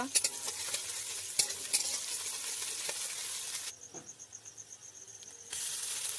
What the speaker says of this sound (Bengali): একটা কড়াইতে কিছুটা পরিমাণ সরিষার তেল দেব তাতে পেঁয়াজ কুচি আদা রসুন বাটা